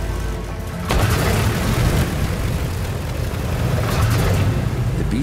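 Engine three of a B-17 bomber starts up: a loud rumble kicks in after a second and settles into a steady, heavy drone, close and continuous, with a few sharper bursts near the end.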